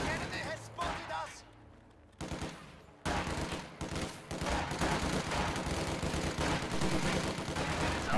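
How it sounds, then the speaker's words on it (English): MG42 machine gun firing in a World War II strategy game, with rattling bursts and scattered gunfire layered over battle noise, brief gaps between volleys, and someone talking over much of it. "MG42 being queued up."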